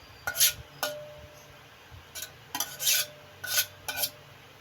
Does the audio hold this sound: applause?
no